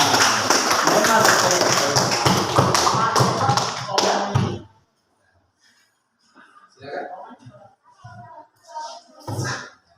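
A classroom of students clapping together during a teaching practice lesson, a dense burst of hand claps for about four seconds, followed by quiet and a few scattered taps and movements nearby.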